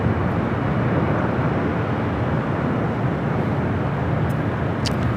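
A Polar Air Cargo Boeing 747-8 freighter at LAX, heard as a steady broadband jet roar that stays loud and even throughout with no talk.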